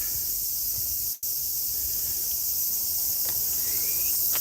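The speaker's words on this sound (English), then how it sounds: "Cicadas." Dense, high, continuous insect drone of cicadas in the Japanese countryside, steady and loud throughout apart from a brief dropout, with faint distant chirps beneath.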